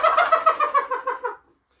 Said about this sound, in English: you want to hear that gobble